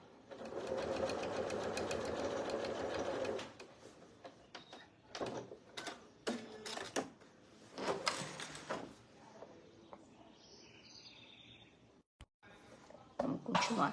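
A sewing machine stitches fabric for a panettone basket in short bursts of rapid mechanical whirring separated by pauses, close by, with a person speaking between runs.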